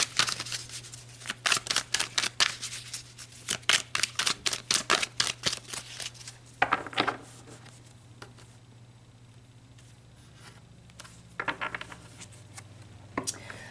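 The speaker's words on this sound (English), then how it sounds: "So let's shuffle and pull some clarifiers." Tarot cards are shuffled in quick, crisp riffling bursts close by, then a pause and a few softer shuffles over a low steady hum.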